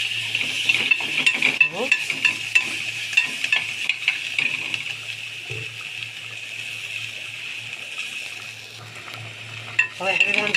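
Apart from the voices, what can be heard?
peppers being stir-fried together in a pan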